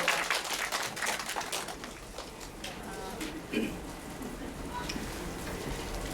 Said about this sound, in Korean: 뜨거운 박수로 주시면